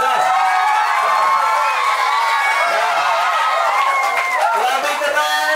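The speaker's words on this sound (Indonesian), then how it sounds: "tepuk tangan, guys" Children at a one-day English and character camp in Bekasi cheer and shout together, many excited young voices overlapping in a loud, continuous din. Individual clapping is hard to pick out.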